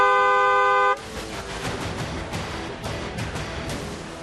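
A vehicle horn blares with a steady tone for about a second in Delhi traffic, then gives way to a loud, continuous wash of road noise.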